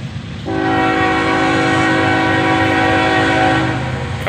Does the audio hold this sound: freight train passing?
yes